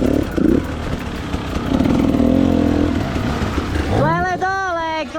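Husqvarna dirt bike engine revving during a motocross freeride across a field, loud and close with rising and falling pitch as the throttle opens, ending in a sharp climbing rev, with voices shouting over it.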